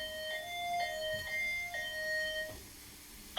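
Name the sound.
fire alarm smoke detector alarm signal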